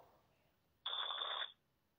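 A telephone signals an incoming call during a call-in program: one short, steady electronic ring tone, clear and alone against near silence.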